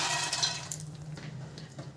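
Water poured into a pressure cooker holding soaked urad lentils, a steady splashing, gurgling stream close by that runs the whole time and eases off slightly toward the end, with no talking.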